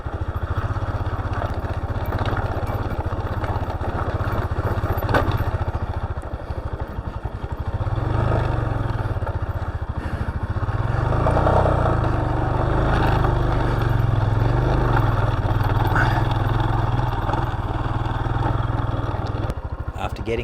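Dirt motorcycle climbing a rocky riverbed in the Flinders Range outback, its engine droning steadily and loudly throughout with rough surges and clattering over the rocks.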